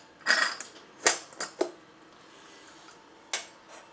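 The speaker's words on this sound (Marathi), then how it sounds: "कुकर खोलूया आपण।" A pressure cooker that has cooled after cooking capsicum is opened with a few sharp metallic clanks and lid scrapes, two quick knocks, a short pause, and then one last clack, all close by and without talk.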